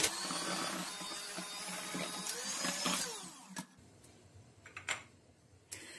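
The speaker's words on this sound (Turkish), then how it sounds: "Şöyle düşük ayarda tekrar hafif bir karıştırıyorum." An electric mixer on a low setting beating yogurt into cake batter, a steady whirring drone for several seconds that cuts out, followed by a few quiet knocks and clicks, no talking.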